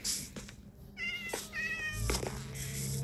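Ocelots in Minecraft give several short, high meows in quick succession against a quiet game backdrop, close and clear with small gaps between calls.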